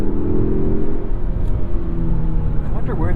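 A 2023 Mazda3 Turbo AWD hatchback driven hard on a winding road, its engine roaring loud and steady with tire noise and a faint squeal near the end, with no talking.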